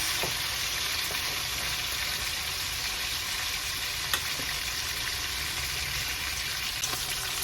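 Fish sizzles in hot oil, making a steady, dense frying hiss that carries on without a break, with a faint clink now and then and no voices.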